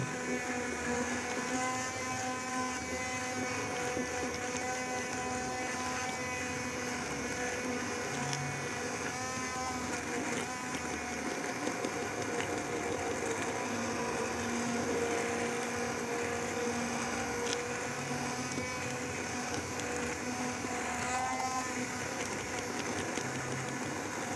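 Blender or Thermomix puréeing cooked squash with a little broth, a steady continuous whirring motor hum running evenly throughout at moderate level, with no voices.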